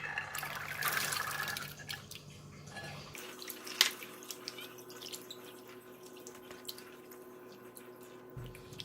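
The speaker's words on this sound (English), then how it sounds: "Just going to throw away this water and give it a quick rinse." Soaking water is poured off chickpeas and they are rinsed: water pours and splashes briefly, then settles into quieter drips and trickles with a low steady hum in the background.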